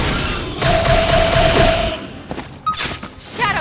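The Beam Barrage attack art in Xenoblade Chronicles X fires as a dense, loud burst of energy blasts and impacts, with a sustained whining tone over the rapid volley before it thins into scattered hits.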